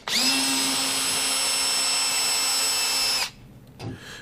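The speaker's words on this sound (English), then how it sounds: "we can unscrew the screws that hold the track into place on one side and then on the other" A power drill spins screws out of a bifold closet door track, one steady high whine for about three seconds that stops abruptly, followed by a faint clunk.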